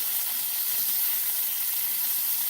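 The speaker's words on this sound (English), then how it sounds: "Hope you guys can hear me over all the sizzling over there." Meat sizzles in a hot frying pan, a continuous, even hiss of frying that runs unbroken from start to finish at a moderate, steady level with no voices.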